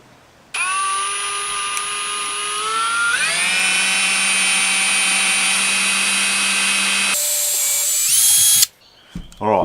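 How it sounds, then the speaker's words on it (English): Power drill bores out a small hole, a steady whining drone that shifts to a lower pitch partway through, then stops, leaving brief handling noise. "I'm going to drill out that little hole"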